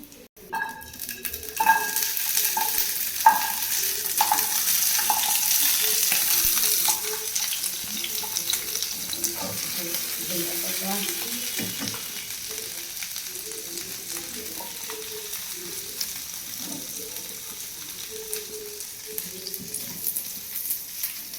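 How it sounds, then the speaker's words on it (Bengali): Onions sizzle and crackle steadily in a hot pan, loud and close at first with a few stirring clinks, then settling into a softer continuous fry with no talking. "পেঁয়াজটা এখনো ভাজা হয়নি, আর একটু ভাজা হবে।"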